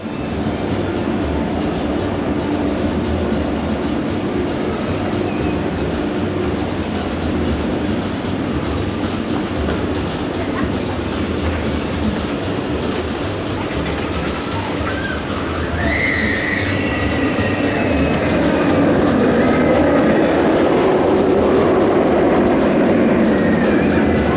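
The Katun roller coaster at Mirabilandia theme park rumbles and clatters along its track, with a continuous loud roar of wheels and wind and brief higher squeals partway through the ride.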